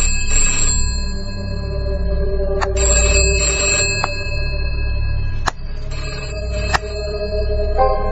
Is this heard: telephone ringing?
yes